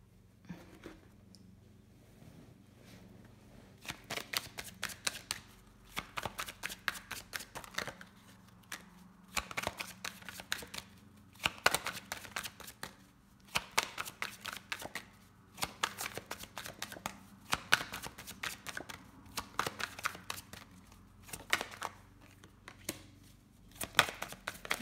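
Tarot cards shuffled by hand during a reading, in repeated crisp riffling bursts that come and go steadily over a quiet background with a faint low hum, no talking.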